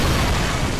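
A trap explosion in Bloodborne gives off a dense, loud roar of broadband rumble that fills the whole brief moment without letup.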